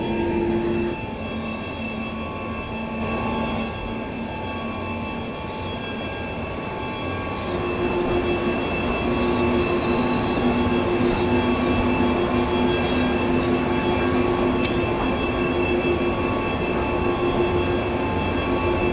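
A BR 187 electric locomotive in Train Sim World 3 runs steadily throughout, with a continuous rail rumble, a sustained whine and some wheel squeal, growing slightly louder after the first few seconds.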